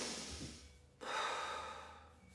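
Breath drawn into the diaphragm: a soft exhale fades out, then a sharp, close inhale starts about halfway through and trails off gradually, with no talking.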